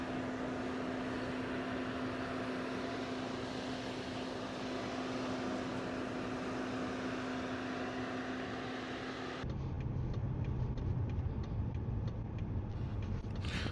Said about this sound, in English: let's take this car for a spin